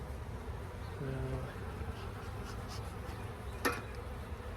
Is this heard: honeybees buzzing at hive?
yes